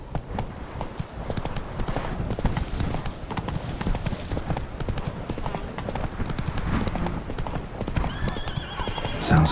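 Roach the horse galloping in The Witcher 3, rapid loud clip-clop hoofbeats throughout with a neigh near the end, close and steady.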